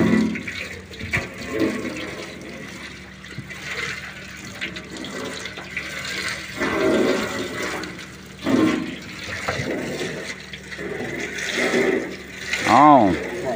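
Water gushing and splashing from a hose onto a surface, in uneven bursts that rise and fall, with a person talking over it.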